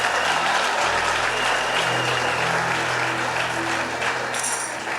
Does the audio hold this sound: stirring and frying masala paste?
no